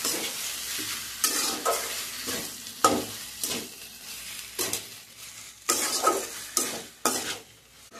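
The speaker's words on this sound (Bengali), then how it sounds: "যতক্ষণ না মশলাটা ভালোভাবে কুক হচ্ছে ততক্ষণ আমি এটাকে ভালো করে নাড়াচাড়া করে নেব" Shrimp and taro stolon with spice paste stirred in a hot pan: loud, close, rhythmic scraping strokes roughly every second over a constant frying sizzle, no voices.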